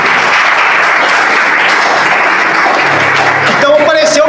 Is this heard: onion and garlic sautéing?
no